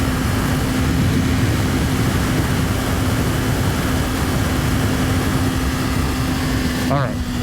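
A Kawasaki Ninja 500, 2024 or later, cruises and eases off speed, giving a steady engine drone and heavy wind roar that hold level throughout, with a brief chirping rise near the end.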